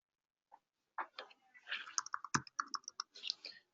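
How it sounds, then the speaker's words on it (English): Quiet, close keyboard typing into a form field: a short burst of irregular key clicks and taps, with a slightly louder thump in the middle. "and then we just start typing"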